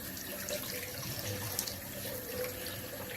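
Tap water running into a bathroom sink to heat a towel for a traditional wet shave, a steady close splashing stream at moderate volume, alone without speech.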